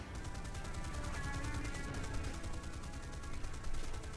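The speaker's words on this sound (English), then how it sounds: "So I'm opening fire early and wobbling up and down a bit because I'm not really sure what range" Rapid sustained gunfire from the P-61C-1's guns in War Thunder, a dense continuous rattle of shots running steadily through the whole short burst, loud and close with no talk over it.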